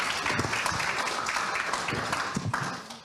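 Audience applause for the panelists at a policy event on expanding K–12 computing education in New York State: dense, steady clapping from a crowd that fills the room, tapering off slightly near the end.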